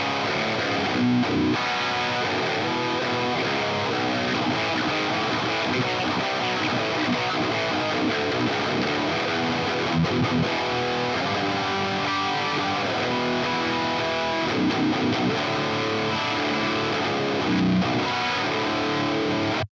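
Loud, continuous overdriven electric guitar through a Line 6 Helix drive pedal model, playing modern metal rhythm chords and riffs, thick and gritty with sustained distortion throughout, no voices.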